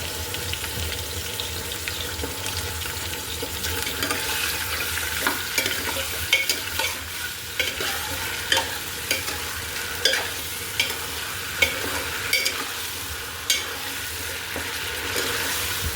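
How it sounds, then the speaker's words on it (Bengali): Chicken pieces frying lightly in oil for a hotel-style chicken soup, a steady close sizzle with scraping stirs and clinks of the utensil growing more frequent toward the end, no voices. "চিকেনটা কিছুক্ষণ তেলের মধ্যে একটু হালকা ভেজে নিব।"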